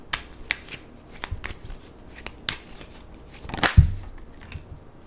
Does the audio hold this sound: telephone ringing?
no